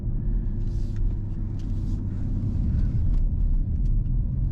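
A 2021 Dodge Durango SRT Hellcat in track mode rumbles with a deep, steady engine drone through S-curves, loud and continuous from inside the cabin.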